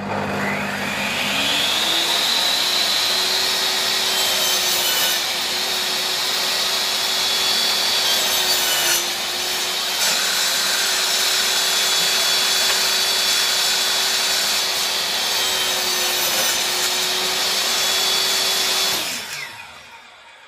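A Bosch table saw spins up to a steady high whine and cuts through wood for about seventeen seconds, loud and close, then winds down quickly as the blade brakes.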